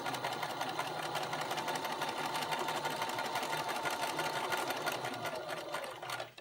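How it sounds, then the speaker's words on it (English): A sewing machine stitches a baby crib quilt panel with a quarter-inch presser foot, one continuous steady whir lasting several seconds before stopping, with no talking. "you put the short side onto the panel and start sewing"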